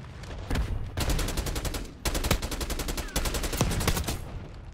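Rapid automatic gunfire from a first-person shooter game, loud and close, in long sustained bursts broken by short pauses.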